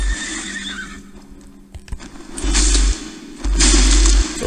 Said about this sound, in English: So, horse with bat wings.